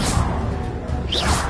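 A Bombarda explosion spell in Hogwarts Legacy arrives as a loud rushing whoosh with a crashing edge, sustained and busy for under two seconds, near and without speech.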